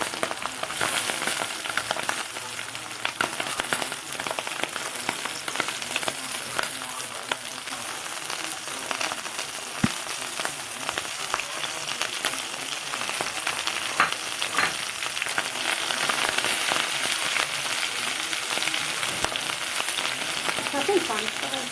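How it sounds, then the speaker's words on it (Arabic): Homemade sausage searing in a pan on a gas stove, a loud continuous sizzle and crackle of frying with occasional scraping stirs, steady throughout. "السجق اهو معايا، انا بديله الاول صدمة"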